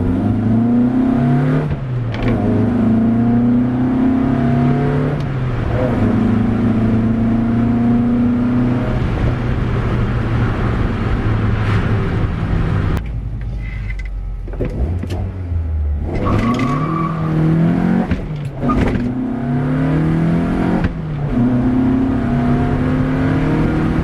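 A Golf Mk1 with a swapped 2.0L 8v engine on Dellorto DHLA carburettors pulls hard at wide open throttle, its note climbing through repeated gear changes, loud and close, with a brief dip between pulls.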